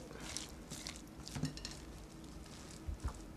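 Chopped onions and cilantro are stirred together in a dish for creamy green enchiladas, giving faint, scattered scrapes and light clinks of a utensil against the bowl in a quiet kitchen.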